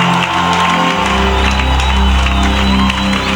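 A church congregation shouts and cheers for joy, a loud, continuous crowd roar with whoops carried over steady sustained musical tones for the whole stretch.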